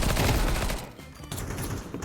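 AK rifle fire in a competitive round-based shooter game bursts out as loud, rapid, close volleys of shots, easing briefly before more shots crackle in the second half.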